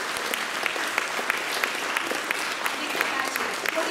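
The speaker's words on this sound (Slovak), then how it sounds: "Aj pre neho veľký potlesk." Dense, continuous clapping from a school audience at a Christmas concert, steady and fairly loud throughout with individual claps popping out of the wash.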